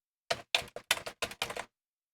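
Computer keyboard keys pressed and released on a DOS PC, seven crisp clacks in an uneven burst, close and clear, then quiet.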